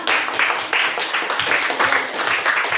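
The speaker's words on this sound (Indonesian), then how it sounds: "tepuk tangan buat kelompok 3 yang sudah." Students in a classroom clap for a presenting group, a short burst of close, uneven hand claps filling the room.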